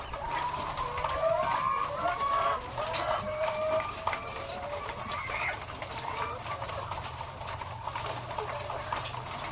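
Layer hens cluck and chatter together at feeding time on a farm, several birds calling in overlapping bursts over a constant low background rumble.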